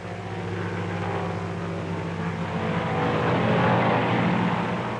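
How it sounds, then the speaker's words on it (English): A propeller airplane flies low and fast overhead with a loud, continuous engine drone. The sound swells slightly as it passes close. "He flies low and fast for 2 or 3 miles past his objective"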